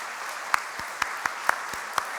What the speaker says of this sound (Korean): 잠깐 자리에서 일어서 주시면 우리 박수로 축복하도록 하겠습니다.